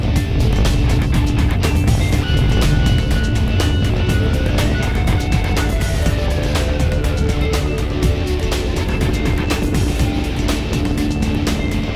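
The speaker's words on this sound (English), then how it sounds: "we have liftoff of the United Launch Alliance Atlas V rocket carrying AEHF-3" Steady, loud, broadband roar of a United Launch Alliance Atlas V rocket lifting off carrying the AEHF-3 satellite, a sustained rumble with crackle throughout and no gaps.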